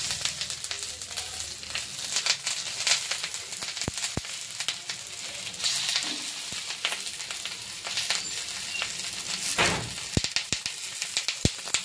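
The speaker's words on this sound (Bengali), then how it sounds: "চাটুর মধ্যে নর্মাল ভাবে এটা ভেজে নেব" Paneer paturi, paneer slices wrapped for cooking, frying on a hot tawa with a steady, close sizzle and occasional sharp pops and crackles, no voices over it.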